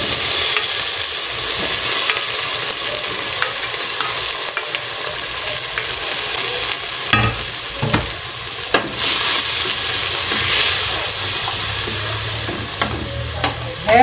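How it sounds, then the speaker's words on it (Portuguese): Garlic seasoning sautéing in a hot pan, a loud close sizzle broken by scraping stirs and clacks of a spoon against the pan. "Vou refogar aqui."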